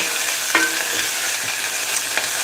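Onions frying in a pan with hot oil and sesame seeds for a spicy savoury oats dish, a steady broadband sizzle with a few sharp stirring clinks and scrapes, close and fairly loud, no talking.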